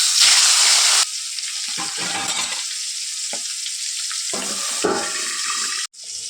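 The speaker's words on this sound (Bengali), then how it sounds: "তো এখন আমি ডিমটা ভেজে নেব।" Snakehead fish roe frying in a pan gives a loud hiss of hot oil at first, then a steady sizzle broken by stirring and scraping sounds. It is close and without talk, with a short pause near the end.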